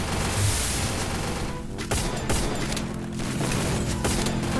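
Loud, continuous video game gunfire crackles in dense overlapping bursts, with a few sharper cracks standing out against the barrage.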